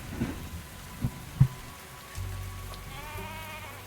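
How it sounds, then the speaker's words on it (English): Sheep bleating inside the video game Tavern Talk, a few soft calls set against a steady patter of rain on a surface, with a low rumbling layer entering partway through. "Oh, I heard a sheep."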